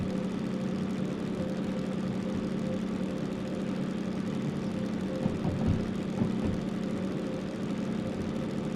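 A diesel locomotive engine in the train simulator Derail Valley runs at a steady drone, a continuous low hum with faint mechanical texture and no breaks, holding an even level throughout.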